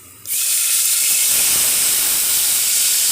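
Vinegar poured into a hot pan of browning garlic for Egyptian koshari erupts into a sudden loud, steady steam hiss that holds close and strong.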